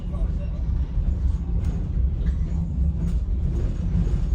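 Dunedin Railways train rolling through a tunnel under Salisbury Ridge in the Taieri Gorge, New Zealand, a loud, steady low rumble with rail clatter, while someone speaks over it.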